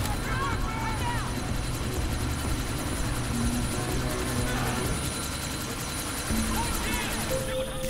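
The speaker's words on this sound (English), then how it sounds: "Chopper's about to take off!" Helicopter rotor and engine noise from the video game Deus Ex: Mankind Divided, a steady loud thrum as the chopper prepares to take off, mixed with game sounds and talk.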